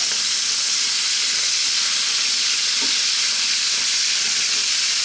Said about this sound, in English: we're going to drop in some oil. I'm using a sunflower oil. And we're going to start to fry.